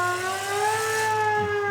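A siren button on a sound board produces a wailing electronic siren tone that rises and falls smoothly, clear and alone for under two seconds.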